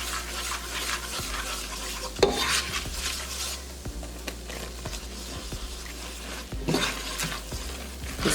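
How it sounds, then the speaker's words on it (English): A utensil stirs flour into melted butter in a pan on the stove for a cheese sauce, with a soft constant sizzle and repeated scraping and clinks of the spoon against the pan, close and moderately loud. "So you just want to mix that in with your butter."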